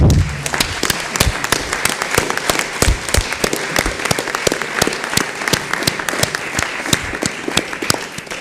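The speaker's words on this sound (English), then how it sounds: "give this group a round of applause for their leadership" Sustained applause from a crowd, steady clapping throughout with no talking, fairly close and lively.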